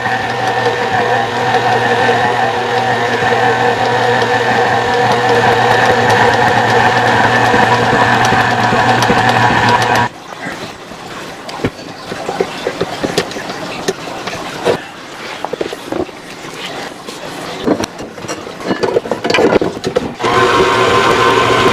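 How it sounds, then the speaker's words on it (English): A KitchenAid stand mixer churns ground venison bacon meat with a loud, steady motor whine. Midway the sound turns rougher and uneven, with knocking and sloshing pulses over the drone. "I'm going to put it in this KitchenAid mixer and mix each segment a couple times"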